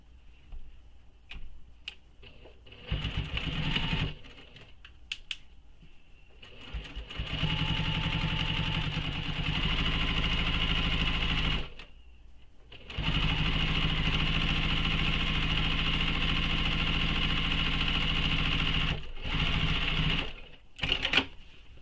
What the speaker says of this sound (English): now we're going to top stitch this with the seam allowance she gives in the pattern